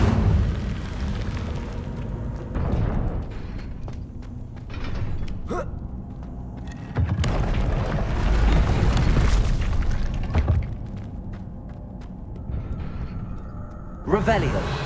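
Booming bursts of fire magic from an Incendio spell cast in Hogwarts Legacy, with repeated loud whooshing blasts rising and falling over game ambience and no talk.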